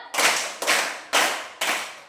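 Four loud, close hand claps in a steady rhythm, evenly spaced about half a second apart, as a group clapping game during an icebreaker, each clap sharp and ringing briefly, with no talk.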